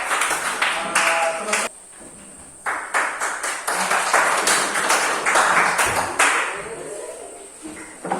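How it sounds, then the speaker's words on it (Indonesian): A classroom group claps for a teacher after a music lesson with maracas and melody playing, dense applause that breaks off briefly near two seconds and then resumes steadily, close and fairly loud. "tepuk tangan sekali lagi untuk Bapak"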